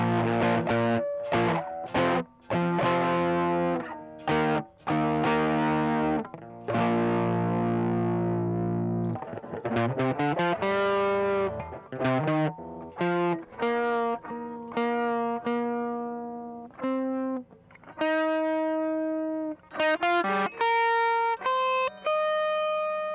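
Electric guitar run through the Tackle Box plug-in at a middle-ground, not-quite-high-gain drive setting, playing loud, sustained distorted chords and then rhythmic phrases and single-note lines, continuous and up close with no talking.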